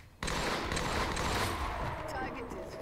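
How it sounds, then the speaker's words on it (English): Rapid bursts of battle rifle gunfire in the Halo video game, Halofall Rise of the Titans mod, crackling continuously and loudly after a brief quiet start, with voices talking over the shooting. "Gotta love the battle rifle."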